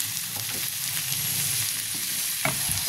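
Onion masala frying in a pan while bitter gourd karela cooks, a steady close sizzle with light stirring scrapes and a brief clatter near the end.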